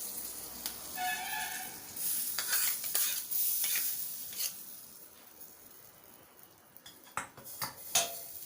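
Hot tempering with curry leaves poured into cucumber gojju, a bright sizzle that fades, then spoon-stirring scrapes and clinks against the bowl, close and fairly quiet.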